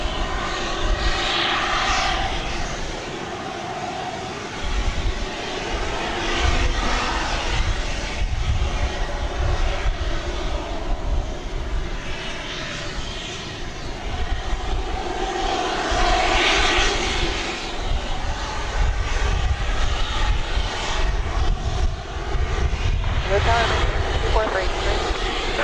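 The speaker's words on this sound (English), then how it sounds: "I do hear what sounds like another UPS plane firing up" UPS cargo plane engines spooling up at DFW Airport, a steady broad roar of aircraft engines rising and swelling at moderate distance across the whole stretch, with a voice talking over it.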